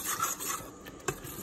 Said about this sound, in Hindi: दही को हल्का सा हम भुनेंगे